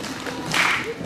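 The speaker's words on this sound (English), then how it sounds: "Let's give them a Husky cheer" Elementary school students give a brief cheer with clapping, a short burst of mixed young voices and applause rising and fading within about a second.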